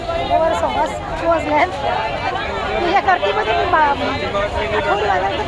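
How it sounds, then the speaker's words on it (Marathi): Busy crowd chatter at a weekly village market, many overlapping voices close by and steady throughout, with individual people talking amid the babble. "आणि जाम मार्केट लागलाय एकदम जाम आठवडी बाजार"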